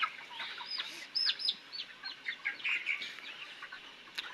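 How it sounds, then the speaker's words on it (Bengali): Many roosters in a poultry farm shed give short, overlapping clucks and crowing calls at mid distance, scattered across a steady barn hum with no talking. "মাশাআল্লাহ মোরগ আছে অনেক, এই যেগুলো কিন্তু সবই মোরগ"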